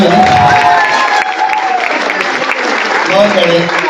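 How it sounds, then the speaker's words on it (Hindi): A crowd at a network marketing event gives loud, sustained applause for the DJ, dense clapping mixed with cheering while voices carry over it throughout. "एक बार हमारे डीजे वाले बाबू के लिए जरा जोरदार तालियां हो जाए।"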